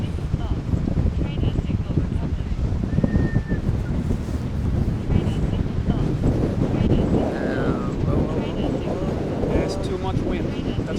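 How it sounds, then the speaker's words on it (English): Strong wind buffeting a microphone outdoors at an RC glider flying session, a loud continuous rumbling roar throughout, with people talking faintly beneath it. "There's too much wind."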